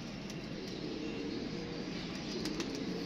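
Pigeon cooing softly amid a steady broadband background hiss, with a few faint higher calls near the end; no talking.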